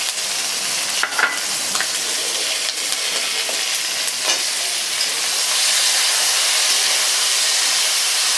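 Tomatoes go into a hot pan for a Jain gravy made without onion or garlic, giving a loud, close, steady sizzle with scattered clicks of stirring, and the hiss swells louder toward the end.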